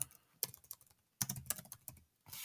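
Computer keyboard typing in a few quick bursts of close, light clicks separated by short pauses, quiet and with no talking.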